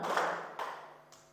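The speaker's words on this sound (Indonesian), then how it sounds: "Tepuk 1 kali, 2 kali, tepuk 3 kali" Hand claps in a classroom clapping game, a few sharp broadband claps spaced unevenly, moderately loud and close, with no talk over them.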